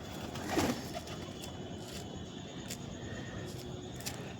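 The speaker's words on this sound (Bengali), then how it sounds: "পাখিরা সব খেতে এসেছে, পায়রাও খেতে এসেছে।" Pigeons and other birds feed on a small rooftop garden, giving soft, close coos and brief calls over quiet background hiss.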